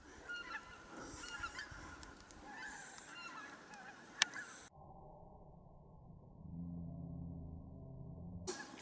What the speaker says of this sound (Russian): Это они тебя увидели и загагакали.